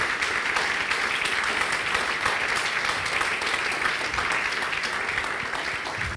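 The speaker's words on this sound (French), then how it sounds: "j'aimerais que vous acclamez le pasteur Patricia" A church congregation applauds Pastor Patricia at a celebration, with dense, steady clapping from many hands that stays loud and even for about six seconds.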